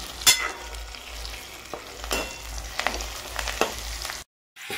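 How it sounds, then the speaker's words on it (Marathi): Peas and coriander frying in a pan, a steady close sizzle with scattered stirring scrapes; the sound cuts out briefly near the end. "त्याच्यानंतर आपण वाटाणा आणि कोथिंबीर टाकतोय, चांगले तळून घ्यायचे।"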